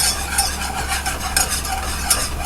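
Roux bubbling in a pan for soup or gravy while being stirred, a continuous close sizzle with rhythmic scraping strokes.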